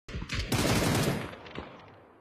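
Machine gun fire in PUBG: a sharp opening shot, then a loud rapid burst that decays into scattered trailing rounds and echo, with no talk over it.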